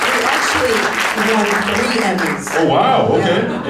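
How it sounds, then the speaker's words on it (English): Audience applause at a House of Mouse Expo panel runs loud and continuous under people talking over it, a dense clapping wash that swells again near the end. "let's give that some applause"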